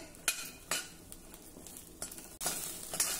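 Chillies dry-roasting in a pan make a faint hiss broken by several sharp scrapes and taps of a spatula, close by and fairly quiet, with a louder burst of sizzling toward the end; no voices.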